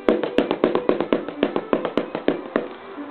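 An improvised drum made from an Australian wine box, used like a bodhran, is tapped by hand in a steady, lively rhythm of crisp, hollow knocks, close and fairly loud, with no voices.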